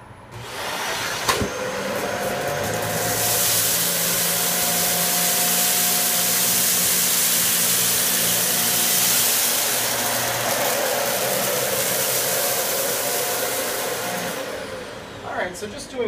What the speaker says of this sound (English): Now let's see how the Dyson Ball Multi-Floor 2 does on carpeting.